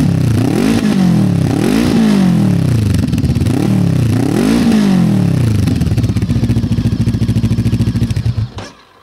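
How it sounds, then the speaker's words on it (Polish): A new Romet ADV 530 TT motorcycle with a loud exhaust revs hard three times in rising, falling swells, then holds a fast, rattling idle before cutting off abruptly. "Silnik pracuje poprawnie, po prostu fajnie się wkręca, bardzo ładnie brzmi."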